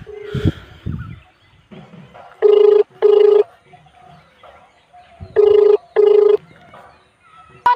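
A mobile phone's outgoing ringback tone on an unanswered call, two pairs of loud, steady buzzing rings separated by pauses, with muffled background sounds and brief voice-like noises between them.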